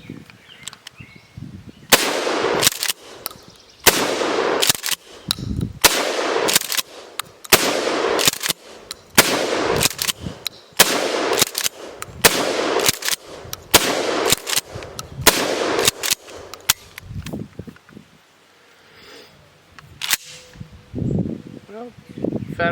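Mossberg 590 shotgun fired repeatedly with birdshot game loads from a nine-round load, loud sharp blasts in a fast irregular string with brief gaps, then quieter handling and shuffling near the end.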